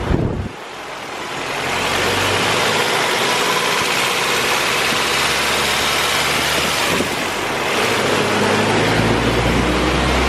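A Honda Civic Si engine running hard on a dyno in a garage, a loud sustained roar with a steady drone that holds level for several seconds, dips briefly, then rises again.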